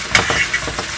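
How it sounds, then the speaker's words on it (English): Chopped onions and garlic sauté in a pan, giving a brief, steady sizzle broken by a few quick spoon-stirring scrapes. "sauteing the onions and the garlic"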